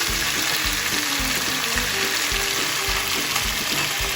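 Cucumber fries in a pan for sweet and sour pork, giving a loud, steady sizzle with soft rhythmic thumps of stirring underneath.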